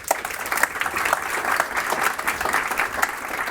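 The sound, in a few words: audience applause for a webinar speaker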